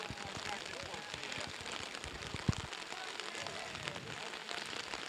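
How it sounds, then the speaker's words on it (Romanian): Heavy rain drums steadily at an outdoor handball match in Bicaz, making a dense, even hiss throughout with one brief sharp knock partway through. "Deja a început să plouă foarte tare aici la Bicaz."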